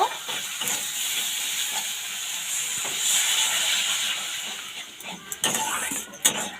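Water hits a hot wok of peas and spices being cooked down, setting off a steady sizzling hiss with a few sharper spits and bursts as the steam rises close by.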